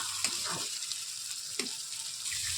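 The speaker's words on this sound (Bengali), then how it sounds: "তো ডিমটাকে আমি এর মধ্যে ভালোভাবে ভেজে নিচ্ছি।" Beaten egg fries in spiced masala for chicken chow mein, a steady close sizzle broken by a few sharp clinks of a spatula against the pan.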